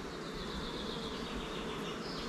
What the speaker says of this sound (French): Là, vous pouvez voir, il y a de l'abeille dans la première hausse et dans la deuxième